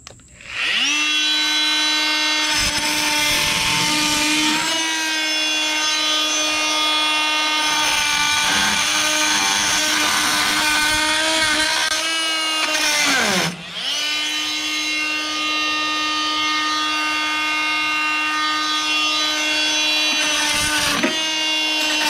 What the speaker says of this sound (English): Let's put it to the real test and see if it'll cut that weld out of there.